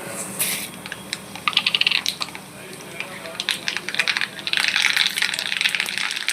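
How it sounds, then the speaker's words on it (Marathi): Mustard seeds spluttering and popping in hot oil, a crackly scatter of sharp pops building toward a denser burst near the end. "तेल झालं आहे गरम, त्यात आपण घालूया मोहरी."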